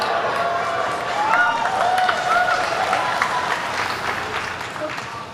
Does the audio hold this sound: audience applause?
yes